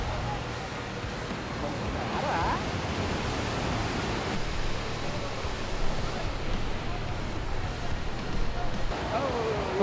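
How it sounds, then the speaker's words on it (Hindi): Water at Athirapilly waterfall in Kerala crashes and splashes in a dense, loud, continuous roar like broad rushing noise, steady throughout with a faint whistle-like tone drifting in at moments. "The water splashes are so amazing."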